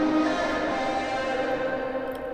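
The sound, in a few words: vocal with telephone EQ, Camel Crusher, sample delay, short reverb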